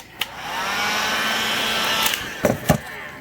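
A heat gun blows a steady, loud whooshing hiss for about two seconds while warming yellow tint film on a Honda Element fog light, then a few sharp knocks and taps follow.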